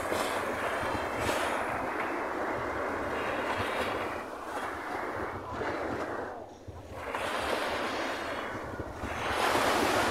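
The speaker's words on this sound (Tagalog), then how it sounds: "Ang alon. Ang lakas ng hampas na guys." Ocean waves crash hard on a beach, a continuous loud roar of surf rising and falling in surges, with no voices.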